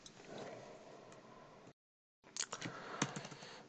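Computer keyboard keys pressed while working in Visual Studio Code, including Esc and a Ctrl+Shift+Space shortcut; soft close clicks and taps in two bursts separated by a brief silence, with sharper isolated keystrokes in the second half.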